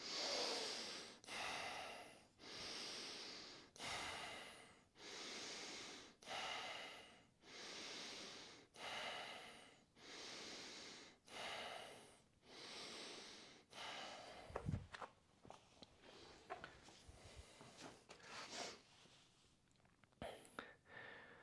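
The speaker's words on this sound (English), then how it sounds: "breathing in and out through your nose. 3 seconds in, 3 seconds out, forcing the inhale and the exhale." Forceful paced breathing through the nose during a workout, about three seconds in and three out, with steady rhythmic bursts of airflow close and loud, then scattered softer breaths and small movement sounds toward the end.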